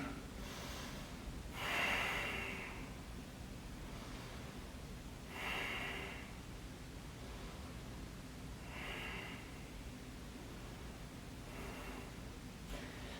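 Slow, deliberate breaths during a yoga pose, four airy inhale-exhale bursts spaced a few seconds apart, close and fairly soft over a quiet room hum, no speech.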